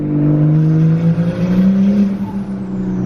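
A loud big-turbo 2020 Toyota Supra engine revs hard on a dyno, its deep droning tone climbing steadily in pitch.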